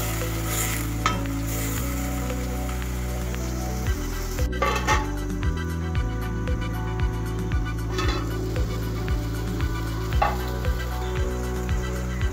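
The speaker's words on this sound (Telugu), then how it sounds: "తరిగి పెట్టుకున్న పాలకూర కట్ట కూడా వేసేద్దాము। ఇందులో పసుపు కొద్దిగా ఉప్పు వేసి ఉడకనిద్దామండి।" Chopped spinach with turmeric and salt cooks in a pan, giving a steady soft sizzle broken by repeated wooden stirring scrapes and knocks against the pan, with no voices.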